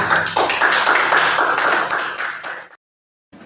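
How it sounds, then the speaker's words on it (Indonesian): A class of students in a school lesson claps together in a dense, steady burst of applause that lasts about two and a half seconds, then stops abruptly into silence before a faint sound resumes. "Ya, tepuk tangan."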